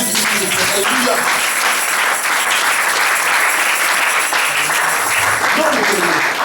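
A church congregation applauds and cheers in acclaim of Jesus Christ, giving a loud, sustained wash of clapping from many hands that fills the room without pause, with voices mixed in.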